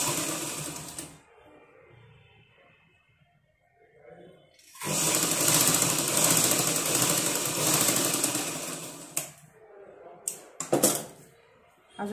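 A sewing machine stitches two layered fabric pieces together, with a brief run, then a long steady stretch, then a few short stop-start bursts, and a quiet voice in the gaps.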